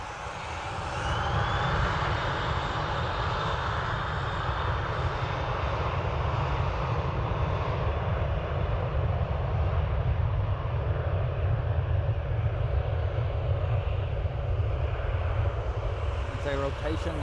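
An airplane takes off at Dublin Airport, a powerful sustained engine roar heard from outside that holds steady for many seconds as it speeds down the runway, with people talking over it.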